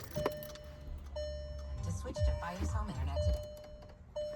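Warning chimes from a VW Mk7 GTI as the ignition is switched on: clear, bright tones repeating about once a second, with faint murmuring voices and small clicks underneath.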